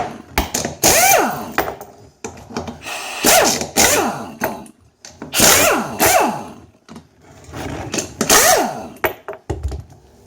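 A Hazet 9012M impact wrench spins off car wheel bolts in four or five loud, close bursts, each a whirring hammering rattle with a falling pitch sweep, separated by short quiet gaps between bolts.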